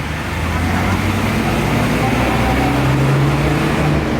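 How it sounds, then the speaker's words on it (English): Bus running on a city street near a Bang Phai floating market MRT stop, a steady loud low engine rumble blended with constant roadway traffic noise, with no pauses. "Bus is operating here."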